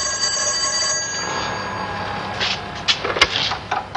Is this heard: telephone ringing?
yes